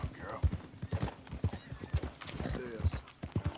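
A horse in Red Dead Redemption 2 clip-clops along in a regular, close hoofbeat rhythm, with a whinny and someone talking over the steps.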